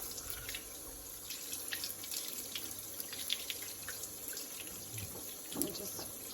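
Tap water running into a sink while a gutted trout is rinsed, a steady splashing stream with small irregular spatters and drips, fairly quiet and close.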